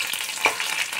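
Crushed garlic cloves dropped into hot oil already frying dried red chilli and panch phoron, giving a close, steady sizzle with a brief burst as the garlic hits the pan, no voices.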